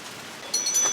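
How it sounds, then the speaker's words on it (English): Heavy rain from Hurricane Florence falls in the North Carolina foothills, a brief steady hiss of downpour that swells louder halfway through. "But the rain is coming down"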